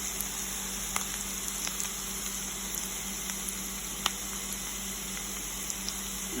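Pork sizzling in a pan for pork Marsala, a steady close frying hiss with scattered faint pops and crackles and no talk.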